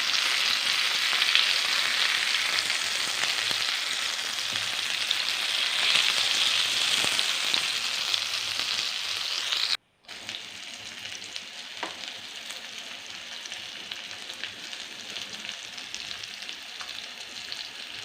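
Mackerel fries in a pan with a loud, steady sizzle that runs throughout, with a brief cut partway before the sizzle resumes a little softer.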